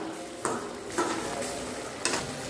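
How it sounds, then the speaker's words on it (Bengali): Chopped coriander being stirred into a curry in a pan makes soft scraping and shuffling under a low sizzle, marked by three sharp spoon knocks against the pan at a steady pace. "ধনে পাতা কুচিটা ভালো করে মিশিয়ে নিয়েছি"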